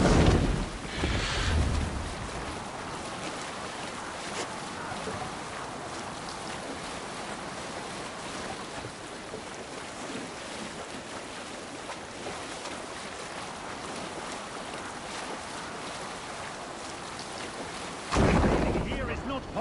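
Viking longship under sail on open sea in Assassin's Creed Valhalla, a steady wash of waves and wind with rushing water that swells at the start and again near the end, low voices faintly present.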